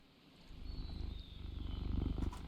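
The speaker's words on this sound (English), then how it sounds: "The cat's purring." A cat purrs in the Cast n Chill fishing game, a soft, close, rhythmic rumble that swells steadily over a quiet outdoor ambience, with no talking.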